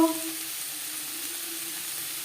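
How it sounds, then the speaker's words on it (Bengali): Onions fry in a pan for a fish curry, giving an even, continuous sizzle at moderate volume with no talking over it. "দু 3 মিনিট পেঁয়াজ ভেজে নেওয়ার পর দিয়ে দেবো স্বাদ মতো লবণ"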